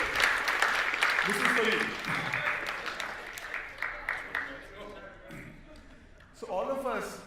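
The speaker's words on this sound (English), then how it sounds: "Can we give a big applause to him?" An audience bursts into applause, loud and dense at first and then thinning into scattered claps, while someone speaks over and after it.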